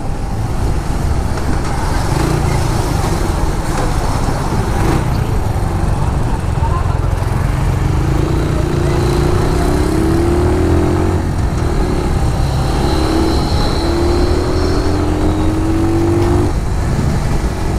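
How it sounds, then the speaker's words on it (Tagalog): Bristol BR 250 cafe racer motorcycle running on its stock exhaust pipe, a steady, fairly quiet engine drone heard continuously while riding, with road and wind noise throughout and someone talking over it. "Tahimik pa ng makina"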